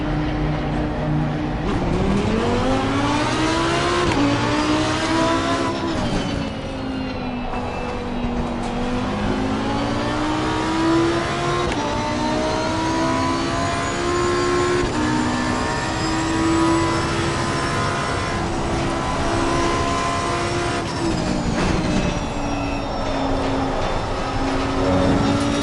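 Race car engine at Donington Park roaring continuously at close range, pitch climbing and dropping as it revs up through gears and backs off, loud and steady throughout with no talk.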